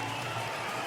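Crowd at a Muay Thai fight in Queensland applauding and cheering a takedown, a dense, steady wash of clapping and noise with no distinct voices.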